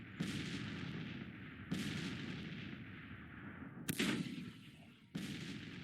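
Artillery fire in a Civil War battle for Nashville in Grand Tactician: The Civil War: four heavy cannon booms spaced a second or two apart, each followed by a long rolling rumble that fades slowly.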